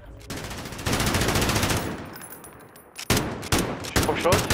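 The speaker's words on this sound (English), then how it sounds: "I just carried on shooting." Call of Duty: Warzone battle royale gunfire rips out in loud automatic bursts, with a continuous stream first, then a gap, then sharper separate volleys close by.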